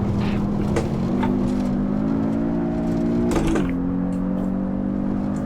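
A Porsche 718 Cayman S engine in Assetto Corsa drones steadily at the Nordschleife, its pitch rising and shifting with a brief rev change midway, loud and continuous without talk.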